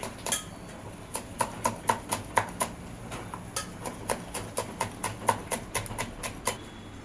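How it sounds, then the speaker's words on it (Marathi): A knife finely chopping a chilli on a board, sharp distinct taps in quick irregular bursts of about twenty strikes, close and clear against a quiet room. "एक मिरची मिरची पण बारीक कापून घेतोय"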